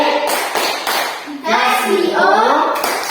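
Children in a classroom clap a rhythmic 'tepuk wow' pattern for a group, with sharp, close hand claps spaced through the passage under loud group chanting.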